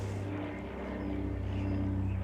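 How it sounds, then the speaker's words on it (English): Small airplane passing overhead near a park home, a steady droning engine hum with a low pulsing buzz, fairly close and constant, with no voices. "a odd plane going over"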